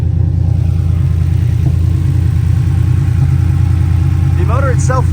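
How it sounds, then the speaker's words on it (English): A 1986 Porsche 911 slant nose conversion with an aftermarket muffler system idles steadily, a loud, close, continuous low engine rumble with a brief faint voice near the end. "This thing fires right up and sounds amazing. It's got some aftermarket muffler system."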